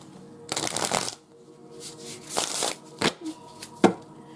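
Cheap tarot deck being shuffled by hand: a long riffling burst up close, then several shorter shuffles and a couple of sharp card snaps, with no talk.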